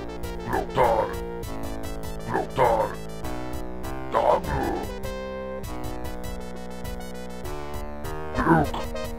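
Dog barks and yips from the 1994 PC DOS strategy game Warcraft 1 on the orc side, several short bursts over a steady synthesized music backdrop, fairly loud and evenly spaced.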